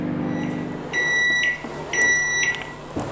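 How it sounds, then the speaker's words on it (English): A running microwave oven hums, then gives two sets of clear, high electronic beeps close by, followed by a faint click. "Okay, so we'll open the microwave,"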